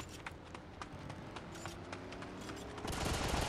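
Gunfire in the video game South London 2, a rapid crackle of distant shots scattered through a busy game mix, growing louder and denser toward the end.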